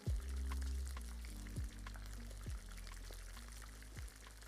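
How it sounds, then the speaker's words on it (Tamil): Two large sliced onions sauté over a high flame in a pot for prawn donne biryani, giving a steady low sizzle with a few soft stirring bumps and no talk. "அதை போட்டு நல்லா வதக்கிடலாம்"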